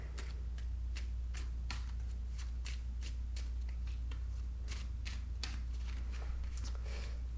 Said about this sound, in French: je peux mélanger le paquet